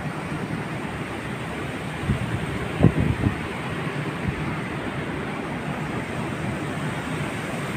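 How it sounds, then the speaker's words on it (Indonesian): Strong wind blows steadily through coconut palms and greenery outdoors, a continuous broadband rush with a few brief gusty bumps, moderately loud with no talk. "Emang angin lagi kenceng sih."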